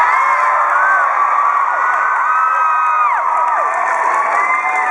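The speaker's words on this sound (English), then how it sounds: "You all scream and scream." A convention panel audience at MegaCon Orlando cheers and screams continuously, a loud, dense crowd roar with high shrieks rising and falling throughout.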